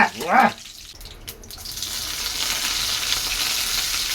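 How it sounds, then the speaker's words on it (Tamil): Onions splutter in hot oil for a chicken curry, their crackling sizzle building and holding steady after a brief voice at the start. "வெங்காயம் தெரிக்குதுங்க"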